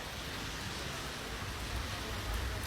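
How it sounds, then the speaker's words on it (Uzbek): Steady, dense hiss of heavy rain falling in Dubai, a continuous wash of noise at even loudness throughout with no voices. "Dubayda jala qo'yyapti"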